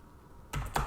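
A few quick keystrokes on a computer keyboard at a bash shell prompt, soft close clicks in a short burst after a moment of near silence.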